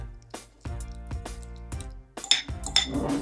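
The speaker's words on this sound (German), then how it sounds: "Und dann zermatschen wir die Avocado mit einer Gabel." A fork mashes avocado in a bowl for guacamole, with a run of wet squishing presses and sharp clinks of metal against the dish, spaced irregularly and heard up close.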